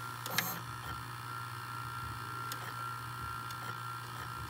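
A Philips SV2000 VCR's tape mechanism whirs with a steady motor hum, punctuated by a few sharp mechanical clicks as it shuttles in and out, close up with no talking.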